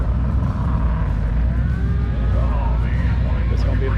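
Race cars at an auto racing event roar past on the track, a steady loud engine rumble with passing surges, crowd-level voices faintly mixed underneath throughout.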